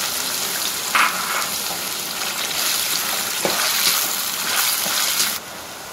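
Tomato masala with coconut paste fries in a pan for Tamil mutton curry, a continuous close sizzle with a few sharp scrapes and stirring bursts, dropping abruptly quieter just before the end; nobody speaks.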